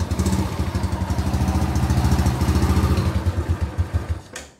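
Engine of a 1995 Honda Grand Impressa motorcycle running with a steady, even putter of rapid pulses, close and fairly loud, slightly rising then fading out at the end; no voices.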